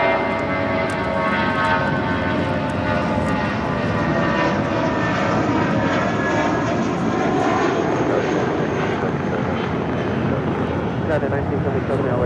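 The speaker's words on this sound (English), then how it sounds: "This is JetBlue Airways Flight 1570 departing to Cancun on an A320." A JetBlue Airbus A320 jet takes off from LAX bound for Cancun, its engines a loud, steady roar that holds for the whole stretch without fading.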